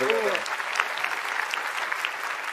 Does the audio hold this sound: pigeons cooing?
no